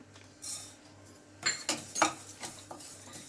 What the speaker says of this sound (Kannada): ಎಳ್ಳು ಮಾತ್ರ ಡ್ರೈ ರೋಸ್ಟ್ ಮಾಡ್ಕೊತಾ ಇದ್ದೀನಿ